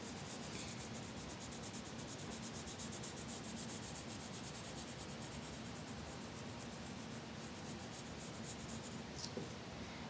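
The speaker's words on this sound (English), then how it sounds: "So I'm just going to sketch this up really quick." A pencil sketches a fashion figure on paper, producing a steady, faint, continuous scratching and rubbing close by, with no speech.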